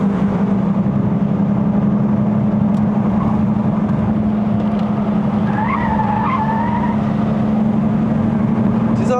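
A Ford Focus MK3 2.0L Sport+ climbing a mountain road, its engine droning steadily at close range as the driver downshifts, with brief tire squeal partway through and no talk.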